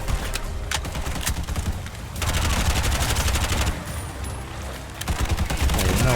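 Rapid automatic gunfire in Bright Memory Infinite hammers out in continuous bursts with brief pauses, loud and close, layered with impacts and game effects.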